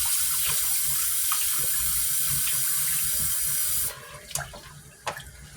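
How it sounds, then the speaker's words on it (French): Tap water runs steadily into a sink while catfish are washed, a constant close rush that cuts off near the end, leaving a few sharp knocks and drips. "Il faut prendre du temps pour bien laver le poisson."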